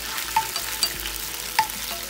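Garlic sizzles as it fries in olive oil in a pan, steady frying hiss with a few sharp stirring scrapes of a utensil, close and fairly loud, no talking.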